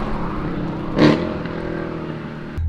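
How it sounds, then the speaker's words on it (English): Engine of a four-door Mercedes C63 saloon car droning steadily with a brief sharp rev burst about a second in, heard from close by as the car drives. "That noise should not be coming out of a four-door saloon car."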